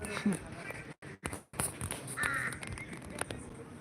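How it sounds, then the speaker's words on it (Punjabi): Himalayan mountain crows caw a few times outdoors in the mountains, fairly near, with brief scuffling or footstep sounds and a short moment of near silence. "ਹਮਾਜਲੀ ਕਾਂ ਨੇ ਹਾਂ ਪਹਾੜੀ ਕਾਂ"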